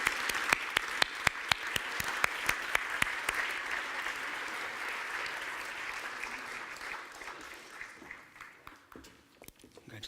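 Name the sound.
audience applause at award ceremony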